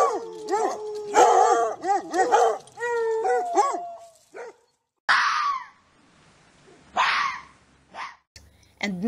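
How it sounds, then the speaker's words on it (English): Dogs yelp, bark and howl in rapid overlapping bursts, followed by a few sharp barks separated by brief silences. "there were most awful noises. Barking, baying, growls and howls,"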